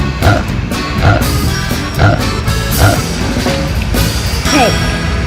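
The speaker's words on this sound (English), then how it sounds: "Pig." Pig oinking in short, evenly spaced grunts, about five in a row, loud and close over a busy background of music and sound effects.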